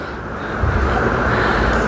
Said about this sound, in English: it is raining like crazy outside right now